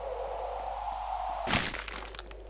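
A sharp crack and crunch of breaking bones in the Roblox game Broken Bones, a single loud snap midway followed by brief crackling over a steady low hum.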